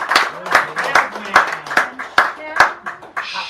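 Audience clapping for a performer at a live show, a few individual claps at a time rather than a full ovation, close by and mixed with voices and talk through the room.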